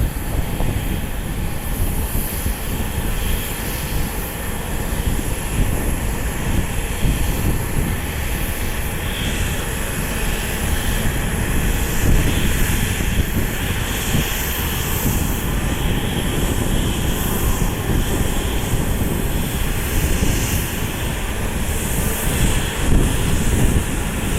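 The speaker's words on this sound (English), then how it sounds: "About the slowest I've seen a Southwest taxi." A Southwest airliner taxis slowly at Columbus airport, its jet engines producing a loud, continuous, broadband roar and low rumble that holds steady throughout with no speech.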